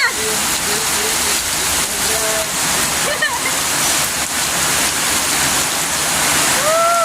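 Heavy rain and rushing water roar steadily throughout, with wind buffeting the microphone and voices shouting faintly in the background.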